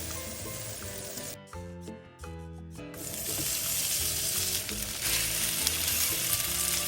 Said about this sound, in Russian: Обжариваем кусочки языка.